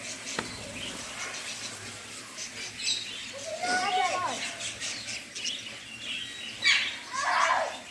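Small birds in a bird garden give scattered high chirps and short trills, moderately close, mixed with background rustle and people talking.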